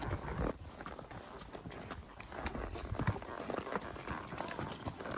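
Pack mules' hooves clip-clop steadily along a canyon trail during a ride, a continuous near rhythm of hoof strikes with rustling and movement around them.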